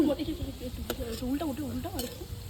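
Sun-dried lentil dumplings (gohona bori) fry in hot oil with a close, crackling sizzle, along with soft bubbling pops and a few sharp clicks of utensils.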